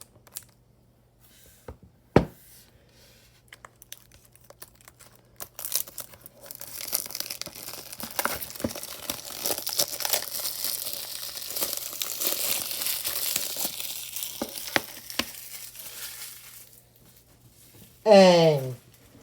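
Plastic shrink wrap tearing and crinkling as it is pulled off a Deadpool 2 Blu-ray case, a sustained close crackling stretch after a few sharp clicks, ending with a brief voice.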